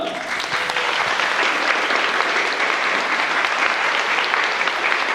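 Wedding guests at a ceremony give a sustained round of applause, a dense, loud, even patter of many hands clapping that carries through the whole stretch without letting up.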